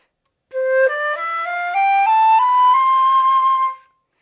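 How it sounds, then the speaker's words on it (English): A flute played with a clear, good tone runs through a rising stepwise sequence of sustained notes, each pitch held briefly before moving up, steady and fairly loud, solo with no talking. "So here's a good tone."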